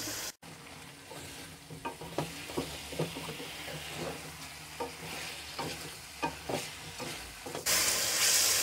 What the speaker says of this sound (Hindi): अब 3 से 4 मिनट हम इसको मजीद भून लेंगे।